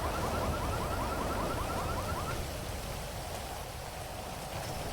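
Rain falls steadily in a multiplayer video game, a dense even patter throughout, joined early by a faint repeating electronic chirp; no speech.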